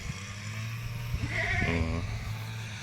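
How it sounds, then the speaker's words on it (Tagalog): A single goat bleats in a large pasture, one wavering mid-distance call lasting under a second over steady wind and a low hum, with no voices. "Nakatatakbo-takbo na yung mga kambing natin."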